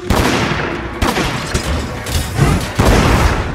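Gunlance blasts from Monster Hunter World: Iceborne, several loud booming explosions in quick succession with crackling debris, close and dominant, no voices.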